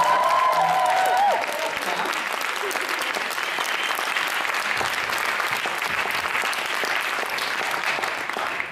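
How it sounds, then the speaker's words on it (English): An audience at a young poet laureate audition event breaks into sustained, loud applause from the start, with dense clapping and some crowd noise that stays steady throughout. "And can we give them all one final big round of applause?"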